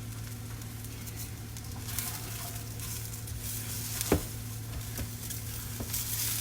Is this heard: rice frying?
yes